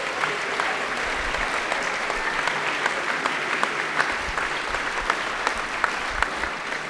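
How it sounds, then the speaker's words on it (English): Audience at a school board meeting applauds students, sustained dense clapping from a crowd in a room, steady throughout with a few sharper claps standing out. "let's give a round of our applause to all our students"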